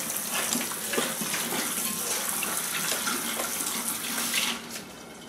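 Two quarts of water poured into a container to brine potatoes, a steady gushing splash that runs for several seconds before easing off near the end, with no voices.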